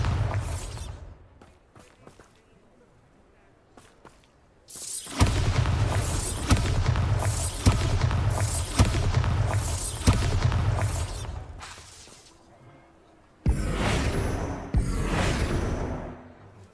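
Bombarda spell blasts in the Hogwarts Legacy video game: loud booming explosions with rumbling bursts and crackling debris, several in a row after a quieter stretch, then a final heavy blast near the end.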